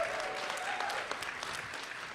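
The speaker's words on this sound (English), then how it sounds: "give them a warm, warm round of applause" An audience at a Saturday morning rally claps steadily, a dense, sustained wash of applause that stays fairly even for the whole stretch, without voices on top.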